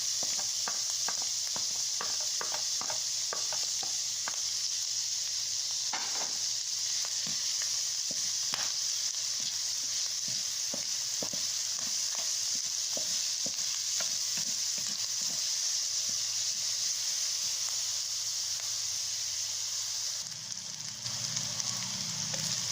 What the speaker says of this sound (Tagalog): Sunod natin yung bawang at sibuyas. Sabay na natin.